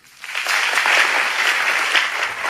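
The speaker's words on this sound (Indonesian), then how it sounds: "Berikan tepuk tangannya." Loud, dense applause from a church congregation during a sermon, rising within the first moment and staying steady and close throughout, with no talking over it.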